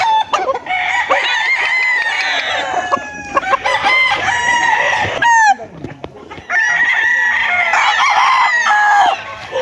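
Several roosters crow loudly and repeatedly, overlapping one another, with chickens clucking throughout in a busy, close farmyard of gamefowl.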